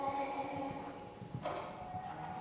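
Horse hooves clip-clopping steadily under an equestrian vaulter during a junior freestyle vaulting competition, moderately close, with a faint murmur of commentary beneath.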